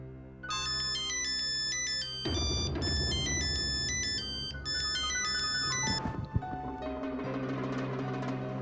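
A mobile phone ringtone plays a bright, repeating melodic pattern that runs loud and steady for most of the clip, with a brief pause in the middle and the tune changing near the end, in the setting of a family drama.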